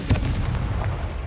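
A Confringo explosion spell cast in Hogwarts Legacy on PS5 gives a loud, booming blast with a sharp onset, then a rumbling low tail of debris that holds for over a second, with no talk.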